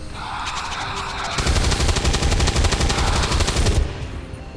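Rapid automatic gunfire from soldiers' weapons in the XCOM 2 video game, a dense sustained burst of shots that grows louder partway through and then cuts off, with no talk over it.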